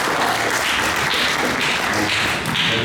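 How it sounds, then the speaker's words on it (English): A small audience claps at a Sleepy Hollow Salem event, giving a steady patter of scattered hand claps that carries on for a few seconds at moderate loudness with no talking. "Give a round of applause."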